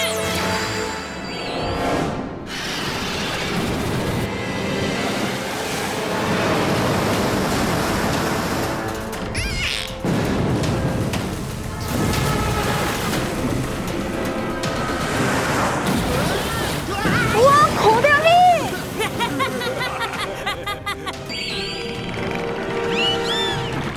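Surging rush of crashing water from a Dino Mecard cartoon wave attack sweeps through, rising and falling in loud bursts with brief squeaky dolphin-like chirps near the end.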